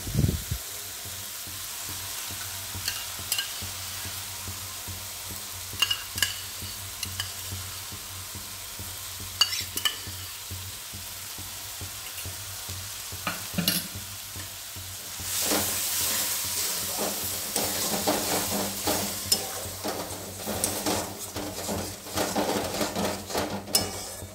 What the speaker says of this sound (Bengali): এবার আমি দইটা দিয়ে দিচ্ছি।